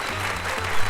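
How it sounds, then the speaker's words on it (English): Audience clapping for comedian Felipe Esparza in a studio, a brief, close burst of applause lasting about a second and swelling at the very end. "So please give a big hand of applause to Felipe"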